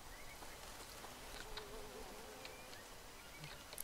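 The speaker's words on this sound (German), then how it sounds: "Dachte ich schon, da wäre eine Biene oder so." A bee buzzes in the Green Hell jungle survival video game, a faint, steady, wavering hum that carries on throughout with no talk.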